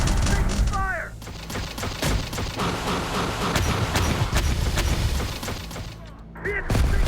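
Gunfire striking a vehicle during combat in the game Terminator: Dark Fate - Defiance, a dense run of shots and metallic impacts over a rumbling battle bed, with brief radio-style voice chirps at the start and end.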